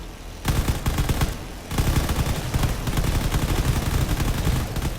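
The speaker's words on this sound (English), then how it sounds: "there's missiles being fired in both directions" Rapid bursts of weapons fire from a space battle video game, dense crackling volleys of missiles and guns firing continuously with a brief lull, loud and close.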